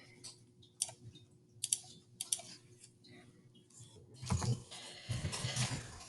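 Someone types on a computer keyboard, producing sparse, fairly faint clicks in small bursts over low background hum, with a denser flurry of keystrokes near the end.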